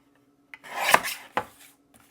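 Stamped sage green cardstock for a fall card is trimmed with a long rasping cutting stroke and then a shorter second pass, close and clear with no talking.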